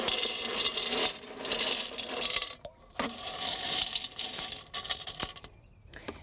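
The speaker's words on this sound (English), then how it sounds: "Now I'm going to put some rocks in this just to add" Rocks clatter and clink into a patio water garden container in a dense, noisy stream of knocks and scrapes, with brief pauses between handfuls, loud and close.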